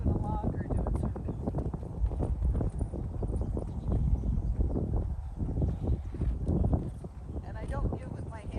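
A Tennessee Walking Horse walks downhill, its hooves clip-clopping in a steady, close rhythm against wind noise on the microphone, with a person talking over the steps.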